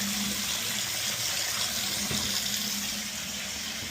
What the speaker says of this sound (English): Look at all that dirty water coming back here.